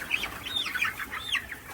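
Egg-laying hens on a poultry farm cluck in a few quick, high chirping calls close by over a faint background hum, with no talking.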